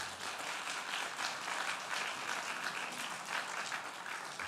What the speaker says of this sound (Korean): 우리 목사님 나오실 때 따뜻한 박수로 환영합니다